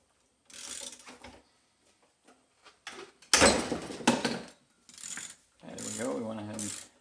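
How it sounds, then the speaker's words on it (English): Short bursts of ratcheting clicks and metallic turning come from a ratchet working a reverse-thread alternator auto-tensioner bolt on a 2003 Acura CL Type-S, heard close up with gaps between strokes. "So you want to set your ratchet to on, and just remove this."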